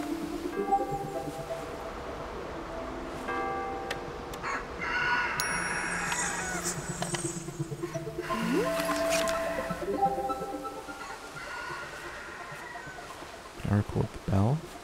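A cockerel crows in the video game Dordogne, a long crow rising through the middle against a steady rural ambience, with a person talking through much of it.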